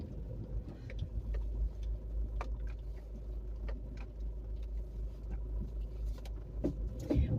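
Low, steady engine and road rumble from inside a moving car, fairly quiet and continuous, with scattered small rattles and clicks.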